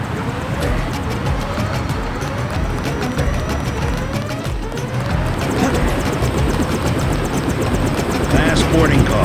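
A helicopter in the video game Deus Ex drones steadily with a continuous rotor and engine roar, holding close and loud for the whole stretch with slight rhythmic pulsing.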